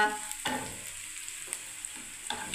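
Onions, garlic, dried chillies, whole cumin and curry leaves frying in oil in a pan give a steady close sizzle, with a few louder stirring scrapes over the crackle.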